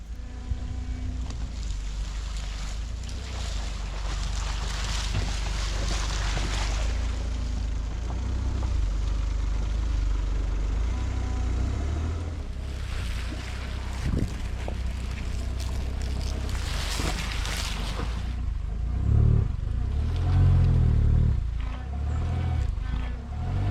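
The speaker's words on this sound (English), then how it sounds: "The wheels just spin now, but actually they do throw mud surprisingly" A Smart car on wide 12-inch tires is stuck in mud, its engine droning and revving continuously as the wheels spin and fling mud, with wind noise and a few voices at times.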